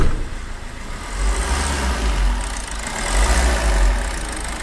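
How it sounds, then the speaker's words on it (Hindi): A Maruti Suzuki Ertiga diesel engine with starting problems idles steadily, a close, loud low rumble that swells slightly and holds without revving. "थोड़ा आगे से आवाज़ सुनाइए इंजन का"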